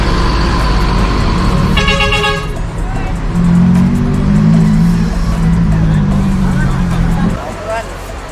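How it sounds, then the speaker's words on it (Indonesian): An NPM intercity bus pulls into the busy Kalideres bus terminal, giving a short horn toot before its deep diesel engine rumbles loudly and steadily nearby for several seconds, with terminal noise and faint voices around. "masuk armada keempat bus NPM di Terminal Kalideres"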